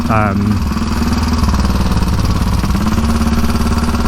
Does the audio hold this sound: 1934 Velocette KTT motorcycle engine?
yes